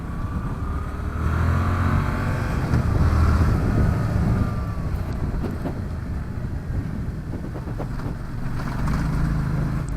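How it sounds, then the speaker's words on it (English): A motorcycle with a quiet stock exhaust cruises steadily in third gear, a low engine drone with harmonic lines under continuous wind rush, rising slightly mid-ride and holding even throughout. "This bike is so quiet."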